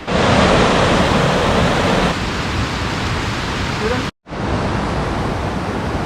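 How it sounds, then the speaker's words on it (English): The Quilcene River flows beside a hiking trail in the Buckhorn Wilderness, a loud, steady rushing wash of water that drops briefly to silence near the end before resuming. "So we are hiking next to the Quilcin River."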